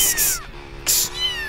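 Two loud, close cat meows sound in quick succession, each a drawn-out falling cry with a bright, noisy onset, played as a sound effect on a livestream.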